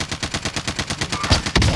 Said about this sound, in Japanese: 銃声だって。